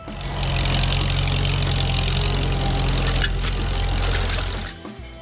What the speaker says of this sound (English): The 4-cylinder engine roars in the morning mist, echoing far and wide to the village entrance.